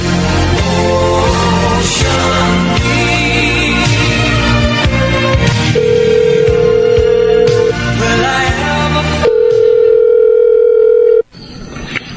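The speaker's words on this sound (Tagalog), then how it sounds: "Mamaya po, subukan kong tawagan si Vanessa." A telephone dial tone plays for an outgoing call, a steady electronic tone that holds loudly and evenly, sits among background music, and cuts off abruptly near the end.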